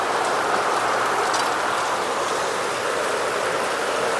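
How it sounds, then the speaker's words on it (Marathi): Heavy rain pouring steadily near a river in the Konkan during crab catching, a dense, even hiss that stays loud and unbroken throughout, with no talking. "पाऊस तर जास्त आहे."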